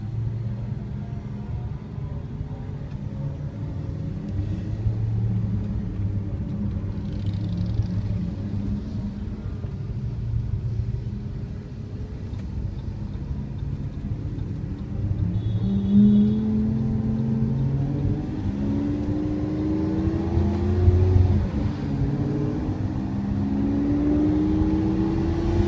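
A Lamborghini Aventador cruises gently along a French road, its engine a low, steady rumble with mild swells, heard throughout without speech.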